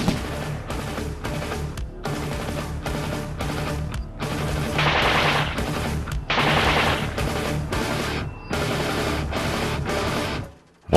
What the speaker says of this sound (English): Just load the magazines and fire a belt of bullets from the machine gun